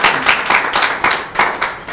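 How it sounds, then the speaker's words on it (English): Audience applause for a presenter at a report launch event: a brief run of evenly spaced, fairly close hand claps with a steady pulsing rhythm and no talk. "A hand of applause for Maureen."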